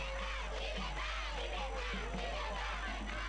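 A large, enthusiastic crowd in Mopti welcomes Mali's president, cheering, yelling and whooping in one continuous roar that stays loud throughout.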